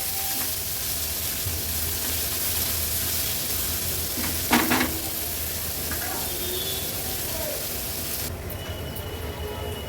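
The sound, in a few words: onion frying in oil over medium flame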